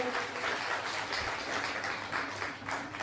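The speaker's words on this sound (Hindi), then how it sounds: "तालियां बजाएंगे सारे लोग।" A crowd at a community gathering claps for a child's achievement, a steady, dense patter of applause at moderate distance that holds evenly throughout.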